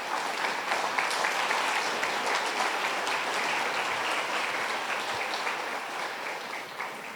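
A church congregation at a Sunday service applauds, a dense, steady wash of many hands clapping that holds at an even level throughout.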